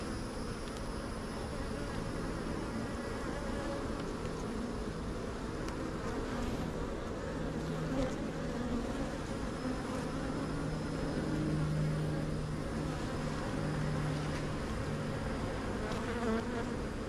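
Honey bees buzzing around open hive frames full of brood, a dense continuous drone of many insects close by, steady and fairly soft throughout.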